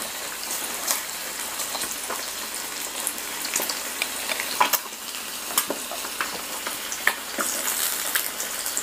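Bacon sizzles and spits in a hot pan, a dense steady frying hiss with scattered sharp pops and crackles, close up and continuous throughout without any voices.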